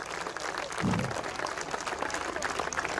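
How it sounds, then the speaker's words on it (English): Audience applause for volunteers at a European float fishing championship award ceremony, steady and dense clapping throughout, with a brief low voice or thump near the start. "Please, a big and long applause for the volunteers."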